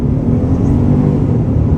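A 2023 Ford F-150 XLT FX4 launches hard from a brake-boosted start, a loud, steady, deep engine roar held close throughout.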